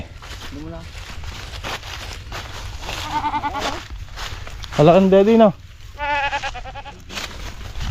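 Goats on a farm bleat several times, loud and close, with one long wavering cry standing out among shorter calls, while people talk nearby.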